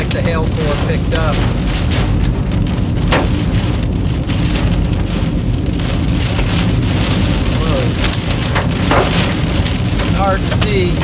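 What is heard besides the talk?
large baseball-size hail pounding on a car in Kansas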